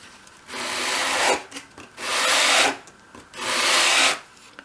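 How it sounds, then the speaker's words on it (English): Three slow, even sweeps of sandpaper taped flat to a work surface as a small wooden door part is rubbed across it with both hands to round its edge, each a loud, breathy scrape with short pauses between. "use a bit of masking tape to stick your sandpaper to your work surface, and then use both hands like that to round it"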